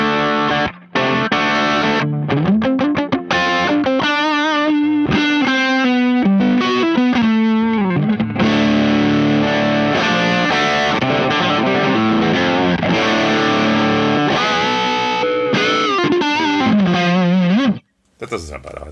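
Electric guitar played through a Caline Andes budget overdrive pedal with its boost engaged gives a loud, crunchy mid-gain tone. The riffs run continuously, with chords and bends, and break off in a few brief pauses.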